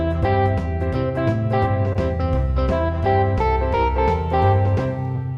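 A keyboard set to a guitar tone plays the melody of a song as single notes without harmony, in a bouncy, steady 1950s rock rhythm, loud and clear with no talking.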